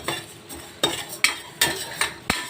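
Urad dal being stirred and roasted in a pan, sharp scraping strokes of a spoon against the metal at an uneven rhythm, about six distinct scrapes, close and clear.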